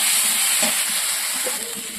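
A pan of raw spice paste with onion, garlic, ginger and cumin sizzles and fries steadily, a loud continuous hiss with faint stirring scrapes.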